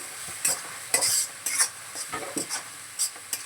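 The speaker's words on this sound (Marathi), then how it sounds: "मला असं तेलामध्ये सगळं परतून घेते" Ingredients stirred and sautéed in hot oil in a pan, with repeated scraping stir strokes over a steady close sizzle and no talk.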